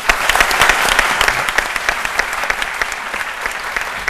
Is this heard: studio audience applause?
yes